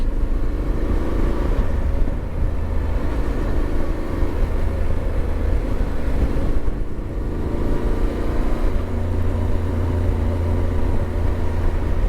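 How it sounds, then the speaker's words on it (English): A Yamaha T7 Rally motorcycle with an Akrapovic exhaust idles and burbles with a deep, steady exhaust rumble, close by and continuous, with slight rises in revs. "It's got an Acropovic exhaust on it, and it's not obnoxious either."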